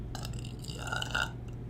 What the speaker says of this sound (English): You got a burp.